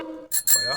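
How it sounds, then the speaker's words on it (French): A bicycle bell sound effect from the Magix video editor rings twice in quick bright bursts, coming just after a short spoken word. "Une sonnette de bicyclette"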